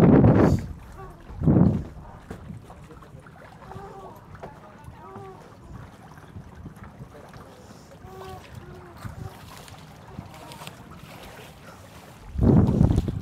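A motorized boat headed to Kalanggaman Island rumbles steadily beneath wind buffeting the microphone, with louder gusts at the start and end and faint distant voices in between.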